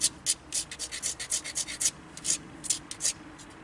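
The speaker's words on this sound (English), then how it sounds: "Okay, so I'm going to grind" A knapped dacite stone tool is ground against an abrasive, making a close, rhythmic series of short rasping strokes that repeat steadily, with brief pauses between runs.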